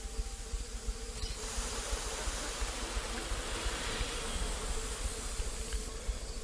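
A dense, steady buzz of an insect swarm in the video game STASIS drones continuously, close and fairly loud, with a low rumbling hum beneath and no voices.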